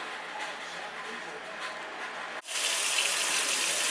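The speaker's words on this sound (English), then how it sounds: "we about to rinse the dye out" Tap water running to rinse hair dye out of a boy's hair, a steady close gush that suddenly grows louder and brighter partway through as the flow increases.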